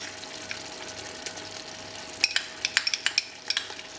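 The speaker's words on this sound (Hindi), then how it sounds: "इसी के साथ हम लहसुन अदरक के पेस्ट को भी भून लेंगे।" Masala with garlic-ginger paste frying in a pan for chicken curry, a low steady sizzle broken by a quick run of sharp metal spoon taps against the pan.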